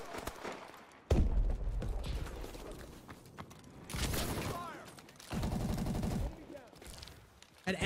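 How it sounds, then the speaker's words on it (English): Shotgun fire from the S12 and other guns in Call of Duty: Advanced Warfare sounds as several bursts of rapid blasts in a multiplayer match, some close and loud, with gaps between them. "An S12 or shotgun"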